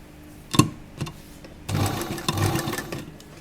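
Sewing machine stitching the seam of an A-line kurta: short bursts of motor whir, then a longer continuous run of stitching, close and moderately loud, no talk.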